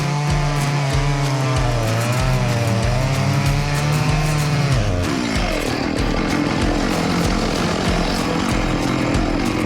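A loud chainsaw running close up while cutting limbs off a felled log, the engine whining high then dropping in pitch as it bites into the wood, continuous throughout.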